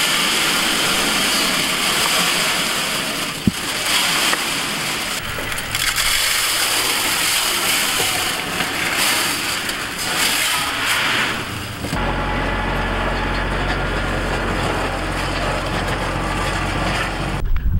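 Flower planting machine with cutter wheels running, a harsh crushing, grinding mechanical clatter with hissing that continues loud for about twelve seconds before giving way to a lower steady engine rumble.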